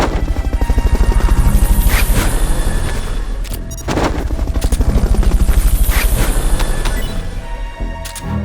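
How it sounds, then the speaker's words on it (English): Fulton recovery helicopter in the video game Metal Gear Solid: Peace Walker, a loud close rotor thrum with rapid regular chopping, punctuated by a few sharp bangs partway through. "Fulton recovery helicopter is complete."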